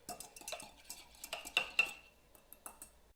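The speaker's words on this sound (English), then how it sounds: "I'm just going to give it a quick whisk" A whisk clinks and scrapes quickly around a pot of heated pickling liquid to dissolve sugar, a run of light, irregular metallic taps and swishes, close and fairly quiet.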